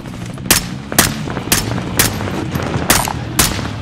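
Gunfire in the Call of Duty Warzone video game, six loud sharp shots spaced about half a second apart over a steady game background.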